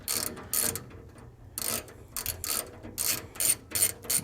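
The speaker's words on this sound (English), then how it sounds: "Now I am using a 3/8 extension for this one. So just go ahead and remove all 10 screws." A ratchet on a 3/8 extension backs out self-tapping screws on a Yoder YS640 pellet grill, giving repeated bursts of bright clicking, each lasting a fraction of a second, close and fairly loud with brief pauses between.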